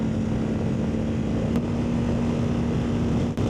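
A CFMOTO Ibex 450 motorcycle engine drones steadily at high road speed, loud and close, with rushing wind noise around it and no talking.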